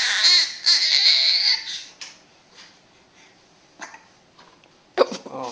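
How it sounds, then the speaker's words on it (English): Small baby fussing and making short throaty burps and hiccup-like sounds, close to the microphone, with a brief cry at the start and quieter gulps and noises afterward. "Oh, burp."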